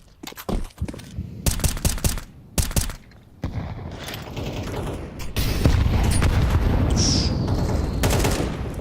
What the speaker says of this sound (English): He threw smoke. Smoke pop.